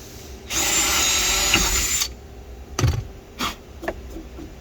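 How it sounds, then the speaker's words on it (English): A power drill with a 5/16 bit bores into metal on a Jeep JLU sub box mounting bracket, one sustained high whine for about a second and a half, followed by a few short bursts and knocks. "we're going to use a drill with a 5/16 drill bit"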